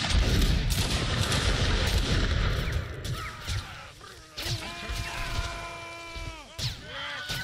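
Musket volleys crack in a line battle video game, a dense roll of overlapping shots at first, then scattered single reports with ringing tones and other game sounds.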